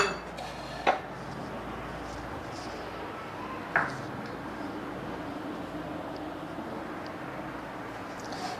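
A large mixing bowl for vegetable pakoras is handled in a kitchen, giving two short, sharp clinks a few seconds apart over a faint steady background hum.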